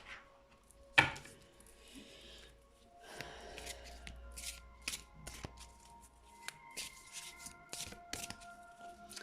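Deck of cards being reshuffled by hand, a series of soft riffles and sharp flicks with an isolated snap near the start, quiet and close in a hushed room.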